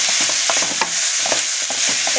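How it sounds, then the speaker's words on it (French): Shrimp filling for banh bot loc dumplings stir-fried in a wok, a loud close sizzle with quick irregular scraping and tossing strokes of the spatula, no voices. "on va ajouter dans le wok les crevettes"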